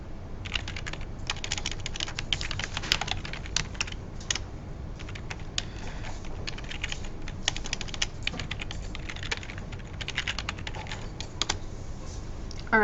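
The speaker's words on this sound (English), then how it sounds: "Just type in your email and password and just create a new account." Rapid, irregular keystrokes on a computer keyboard as an email and password are entered, a steady close clatter of clicks with brief pauses and no talk.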